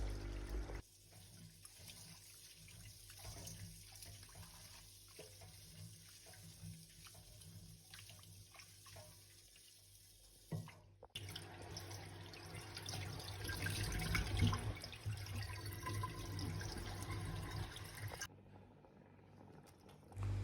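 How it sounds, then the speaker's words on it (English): Rice being washed with water, tap water running and splashing into a sink bowl, moderately close, with a louder stretch of gushing water midway and a brief pause near the end; no talking. "So first I'm just going to wash my rice."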